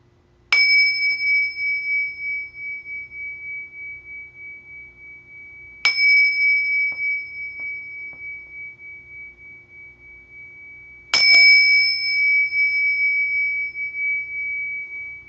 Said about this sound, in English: let me ring the bell here.